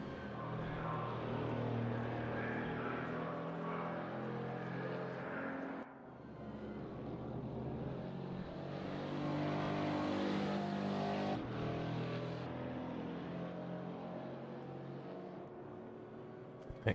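Race car engines in a GT4 sim-racing championship, including a Mercedes-AMG GT4, drone steadily and faintly with shifting harmonic tones, a brief drop near six seconds as gears change, then build again.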